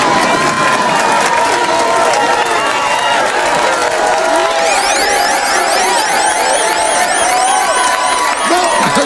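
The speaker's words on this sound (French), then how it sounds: "Fait qu'on va y aller par applaudissage. Qui c'est qui vote pour ça?" A comedy show audience claps and cheers loudly to vote for an act, a dense, steady roar of applause with whoops and shouts running the whole time without a break.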